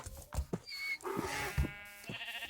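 Sheep bleat several times at close range around a farmyard, harmonic cries rising and falling over rustling movement and low thumps, with a longer wavering call stretching toward the end.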